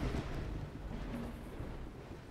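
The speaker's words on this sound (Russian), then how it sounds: "гроза очень жестко выглядит" Thunderstorm in the video game Dawn of Man: a low, continuous rumble of thunder with rain-like hiss, steady and fairly quiet throughout with no talk.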